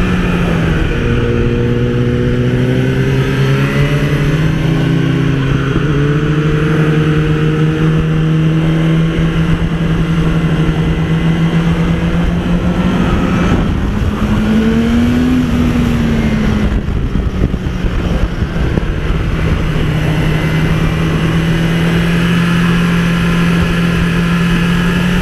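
A BMW S1000RR sportbike on a race track during a track day, its engine droning steadily and close, with rising and falling pitch as it revs through gears, a brief surge near the middle, and no talk.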